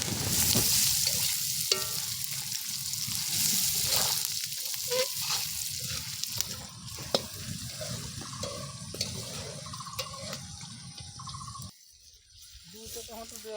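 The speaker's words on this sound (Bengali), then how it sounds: "ভালো করে ভাজো।" Green chillies and chopped garlic sizzle and spit in hot oil in a pan while a chicken kasha is cooked, a steady, close frying hiss with occasional stirring and a voice talking over it.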